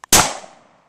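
A single sharp pistol shot at an outdoor shooting range, a loud close crack with a decaying tail, preceded by a faint click.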